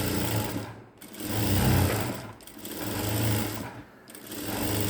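A sewing machine stitches blouse fabric in continuous close, loud runs, swelling and easing in three or four bursts with brief slowdowns between them.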